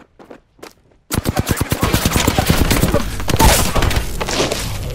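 Rapid automatic gunfire from the video game Apex Legends bursts in after a second of near silence, a loud, dense stream of shots that stays close and continuous to the end.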